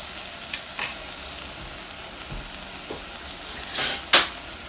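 Apples with cinnamon, nutmeg and vanilla cooking in a pan, a quiet continuous sizzle with a few scattered scrapes and one louder utensil clink near the end.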